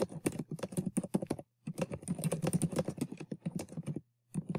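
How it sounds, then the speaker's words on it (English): Typing on a computer keyboard while composing a sentence in a WordPress-based blog editor, heard as rapid, close clicking keystrokes in quick bursts with two brief pauses. "So you type a sentence,"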